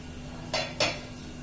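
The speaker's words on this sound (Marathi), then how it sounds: "एक 7-8 मिनिटांनंतर चेक करायचं, असं झाकण काढायचं।" A metal lid comes off a pan of ghavne batter cooking on the stove: two quick close clanks about a quarter second apart, loud against a low steady hum, with no voices.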